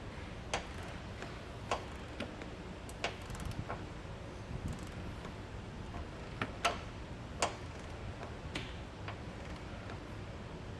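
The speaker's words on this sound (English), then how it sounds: "Now we'll take that same 20mm socket and our torque wrench and go ahead and get everything torqued down to specs" Sharp ratcheting clicks from a torque wrench fitted with a 20mm socket, tightening the bolts of a Curt Class III trailer hitch on a 2024 Lexus RX, come in scattered single ticks over a steady low background hum.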